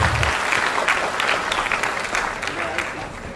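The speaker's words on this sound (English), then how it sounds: "Can you please give a big round of applause?" An audience at a corporate event applauds loudly and evenly throughout, a dense sustained round of clapping.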